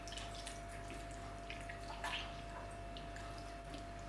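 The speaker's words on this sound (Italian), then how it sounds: "Strizzo la gelatina" Soaked gelatin sheets are squeezed by hand, letting water drip and trickle faintly against a steady low background hum, with no talking.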